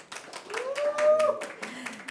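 Clapping from a press conference audience at the Filmfare OTT Awards 2024 for director duo Raj and DK, a modest patter of hand claps heard close by while a voice talks over it.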